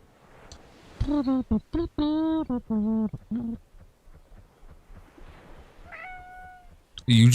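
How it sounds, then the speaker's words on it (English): Cat meowing in a quiet room: a run of loud, close, drawn-out meows, then a pause and a few more cries, with a voice cutting in at the end. "It was quiet and peaceful, and then all you hear is a meow."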